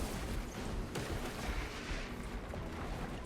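A Techmarine's servo turret firing in a Warhammer 40,000 game, blasting at Zoanthropes: a dense, continuous roar of rapid shots and impacts, loud and unbroken, with no voices.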